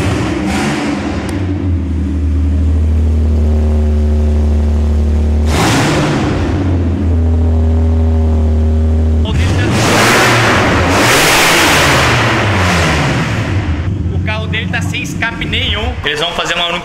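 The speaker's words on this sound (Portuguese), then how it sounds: "amigo meu ligou agora o 350Z dele, o Bruno." A Nissan 350Z drift car engine idles with a deep rumble, then revs hard several times, loud and close, with a voice talking over part of it.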